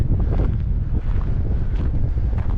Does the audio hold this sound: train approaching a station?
no